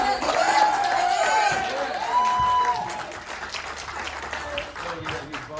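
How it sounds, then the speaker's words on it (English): Crowd applause and cheering at a Sons of Anarchy convention panel during Days of the Dead Chicago, loud and dense with whoops, fading after a few seconds as voices carry on underneath. "Round of applause."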